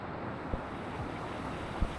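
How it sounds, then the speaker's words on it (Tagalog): Sea waves wash on the shore at an island coast, a steady roaring surf mixed with wind rumble on the microphone, with a couple of soft thumps and no voices. "Dagat na yan, dagat."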